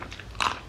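A single crisp crunch as someone bites into a small, fresh cucumber, close and brief against a quiet background.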